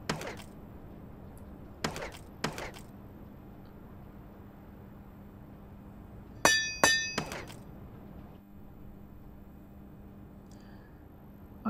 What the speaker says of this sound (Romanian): Vai, ce sunet frumos. Deci că sclopoței de vânt.